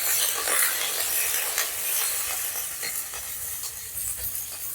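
Chopped chilies, onion and bay leaves hit hot oil in a wok with a bright, hissing sizzle. It holds steady throughout, close and fairly loud, broken by a few scraping stirs.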